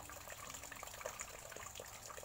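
Water runs steadily into a home goldfish tank, a continuous low gushing and trickling flow like a tap filling a basin, fairly faint and without talk.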